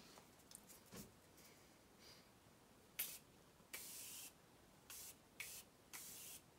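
Morphe setting spray misted in a series of short, sharp bursts, several quick pumps early then longer evenly spaced sprays, close and clear over a quiet room during a makeup routine.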